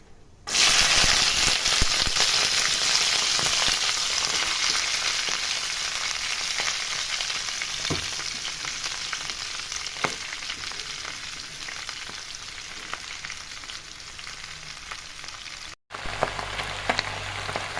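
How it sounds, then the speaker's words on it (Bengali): Pieces of bottle gourd go into a hot pan with bay leaf and oil, starting a loud, steady sizzle that fades slowly as it continues, with a brief break near the end. "এবার আমি লাউগুলো দিয়ে দিব আস্তে আস্তে"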